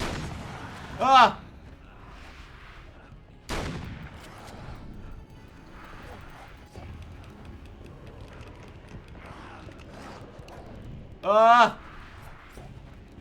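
Shotgun blasts in Alan Wake's American Nightmare, with several sharp, loud reports spaced seconds apart amid quieter game ambience while a person cries out and talks.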